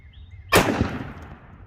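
A Glock 17 pistol fires a single sharp shot while held loosely at the bottom of the grip, the crack bursting out of near silence and trailing off in a brief echoing decay.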